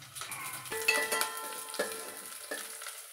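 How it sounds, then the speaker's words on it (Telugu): Onions and curry leaves fry in a pan with a steady sizzle, while a few spoon scrapes and clinks sound against the pan. "ఉప్పు వేయకుండా ఎర్రగడ్డలు వేయిస్తూ ఉంది"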